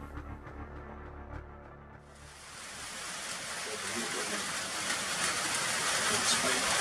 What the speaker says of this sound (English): Waterfall's getting bigger and bigger as it keeps raining, obviously.